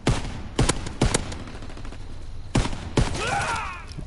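Gunfire in a World War 2 multiplayer shooter game: a handful of sharp, loud shots spaced irregularly, followed by a burst of rapid fire with a whining ricochet-like tail near the end.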